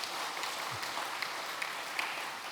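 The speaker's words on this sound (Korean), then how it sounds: "우리 박수로 환영하겠습니다." A church congregation applauds in welcome during a Sunday worship service, a soft, diffuse patter of clapping that stays faint and fairly distant throughout.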